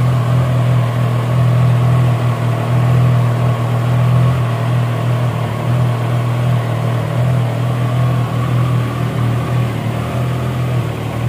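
A 2023 Triumph Trident 660 sports naked motorcycle with a three-cylinder engine idles in neutral with a steady, loud, low rumble that holds throughout.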